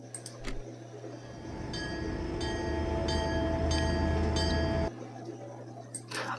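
A train at a railway station around 1 a.m. in a horror short film: a low rolling rumble swells and holds steady, with thin high metallic whines over it, then cuts off abruptly, leaving quiet clicks.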